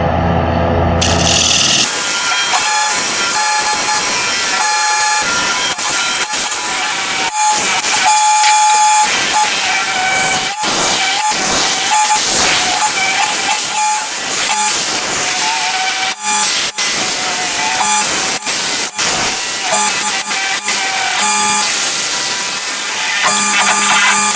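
A bowl gouge cuts a woodturned box spinning on a lathe, producing a loud, continuous scraping and hissing with shifting tones and brief breaks, close up and without talking.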